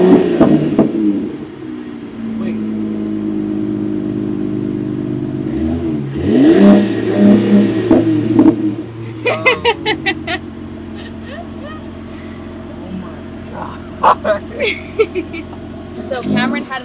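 A Mercedes car in park revs in several rising and falling surges that swell and drop back to idle, up close, while people talk and exclaim over it.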